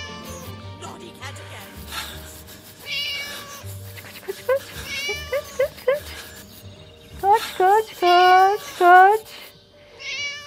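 A cartoon cat meows repeatedly in the Scary Teacher video game, a string of short rising cries that grows louder toward the end, with excited talking over game sounds.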